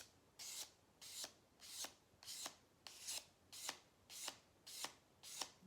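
Steel wood carving gouge being sharpened by hand on sandpaper, its bevel drawn over the abrasive in a round motion, giving eight steady rasping strokes about two-thirds of a second apart, close and fairly quiet with no talking.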